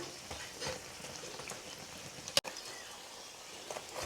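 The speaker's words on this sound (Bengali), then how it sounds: "এভাবে এপিট ওপিট করে লালচে করে ভেজে নেবেন" Mughlai paratha shallow-frying in hot oil over a medium flame, a faint steady sizzle with soft crackles and one sharp click midway, no talk.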